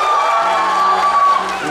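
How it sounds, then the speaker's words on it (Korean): A crowd at a children's school recital claps and cheers to pick the best couple, with excited shouts and whoops rising over the applause in a lively, continuous roar. "박수"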